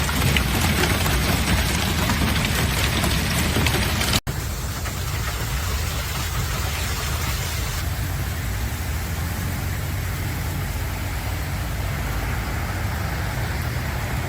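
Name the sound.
violent hailstorm, large hail falling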